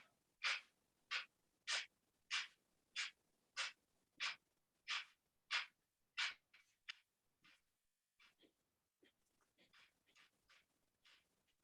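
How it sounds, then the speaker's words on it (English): Rapid Kapalabhati yoga breathing: a run of about ten short, sharp forced exhales through the nose in steady rhythm, close and clear, then fainter, more irregular breaths trailing off near the end. "Short, sharp exhales"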